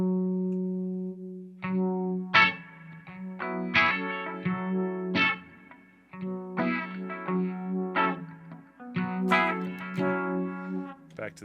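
Electric guitar played through a Sabbadius 1968 Uni-Vibe pedal: single notes and chords ring out with a pulsing, warbling chorus-like throb, played clearly in phrases with short pauses.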